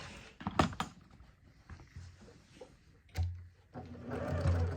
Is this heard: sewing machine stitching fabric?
yes